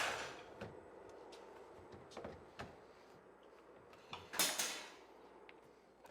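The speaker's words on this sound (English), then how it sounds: "Close the door." The door of a Wilbanks egg incubator being shut, a series of soft knocks and rattles followed by a louder latch-like clunk near the end, close to the microphone, with no talk.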